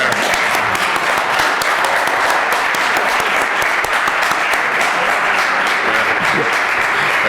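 An audience at a consumer law conference applauds, and the dense, loud clapping holds steady from start to end.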